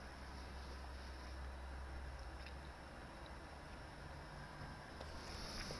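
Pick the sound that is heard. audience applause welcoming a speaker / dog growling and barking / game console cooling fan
game console cooling fan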